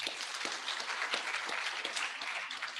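An audience at an International Women's Day celebration in Nairobi claps together, a dense, even patter of many hands held at moderate volume for a few seconds.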